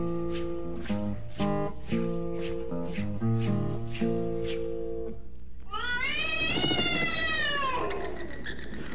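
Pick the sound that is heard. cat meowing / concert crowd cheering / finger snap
cat meowing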